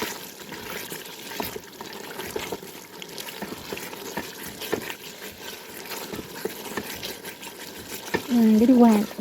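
Water drips into a frying pan as meat cooks, giving irregular soft splashes and quiet sizzling over a steady background noise, with a brief tonal beep near the end.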